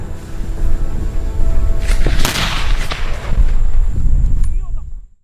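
Gunshots ring out as American hunters shoot wild boars outdoors, with several loud booming reports and a sharp crack spread across a few seconds over a steady rumbling background before everything cuts to silence.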